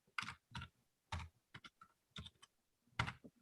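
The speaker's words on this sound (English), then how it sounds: "I'm typing on my keyboard and I forgot I'm using my phone" Typing on a phone's touchscreen keyboard, heard as a series of quick soft tapping bursts in uneven clusters, close and fairly quiet, with no talking.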